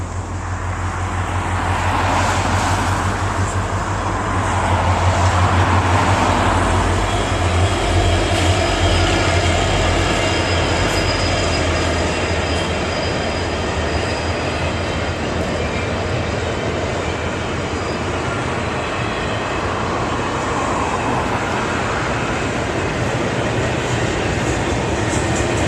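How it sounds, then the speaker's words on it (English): A northbound Union Pacific double-stack freight train hauled by SD70 Max locomotives rolls past close by, a steady loud rumble and wheel noise that holds for the whole stretch with a faint rhythmic clatter of cars. "northbound UP double stack train"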